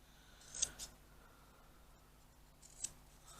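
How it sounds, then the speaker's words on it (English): Decent pair of scissors cutting off the excess of thick, double-sewn fabric on a fanny pack: a couple of crisp snips close together early, then a single snip near the end, quiet room otherwise. "Use a decent pair of scissors because it's quite thick, and cut that off."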